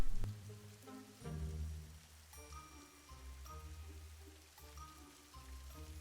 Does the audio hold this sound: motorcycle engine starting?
no